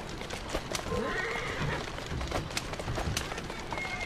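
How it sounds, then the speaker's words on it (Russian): A horse gallops hard in Assassin's Creed Syndicate, hoofbeats drumming steadily while it whinnies, set against a noisy street ambience with clattering in the background. "Не жалеем лошадь, не пускаем поводья и полный вперед."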